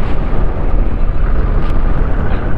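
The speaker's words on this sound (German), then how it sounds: "Die Explosion ist immer ganz schön hart." A spaceship blows up in the space-building game Cosmoteer, a loud, dense, continuous rumbling roar with no clear attack or fade, sustained for a couple of seconds.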